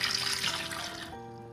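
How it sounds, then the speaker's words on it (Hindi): Water pours briefly into a pot holding onion, garlic and spices for homemade tomato ketchup, a short splashing trickle close by that settles after about a second. "इसमें थोड़ा सा पानी डालेंगे"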